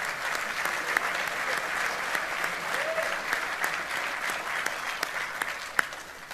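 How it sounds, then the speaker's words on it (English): Audience applause at a military speaking event hosted by the commander of U.S. Army Pacific: steady, sustained clapping from a sizable crowd throughout, with a few sharper individual claps standing out. "Round of applause for General Brown."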